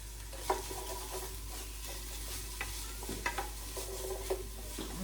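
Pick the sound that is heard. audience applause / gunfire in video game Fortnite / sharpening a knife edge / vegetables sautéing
vegetables sautéing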